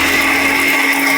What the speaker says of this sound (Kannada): ನಾವು ಯೂಸ್ ಮಾಡ್ತಾ ಇದೀವಿ ನಮ್ಮ ಬೋರೋಸಿಲ್ ಅವರ ಪವರ್ಫುಲ್ ಮಿಕ್ಸಿನ